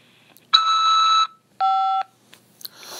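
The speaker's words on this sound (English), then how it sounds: "After the beep, press 5 to accept this call." Two electronic beeps from a prison collect-call phone line: a steady tone lasting under a second, then a shorter warbling tone, followed by faint background noise.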